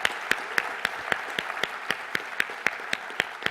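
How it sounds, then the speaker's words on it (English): Sparse, rhythmic clapping at a keynote event: distinct individual claps land roughly every quarter second over a faint crowd murmur, fairly close and crisp. "Everyone give Leif a round of applause."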